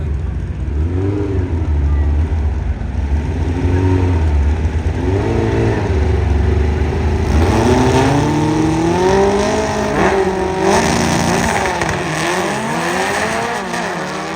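An air-cooled drag racing car makes a pass at Byron Illinois Dragway, its engine revving loudly through rising and falling gear sweeps as it accelerates, with tire noise mixed in and the roar continuing steadily.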